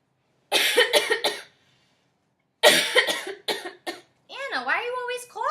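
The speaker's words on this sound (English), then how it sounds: "why are you always coughing?" A person with cystic fibrosis coughs in two harsh, rapid bursts of three or four coughs each, separated by a pause, followed by a strained, wavering vocal sound.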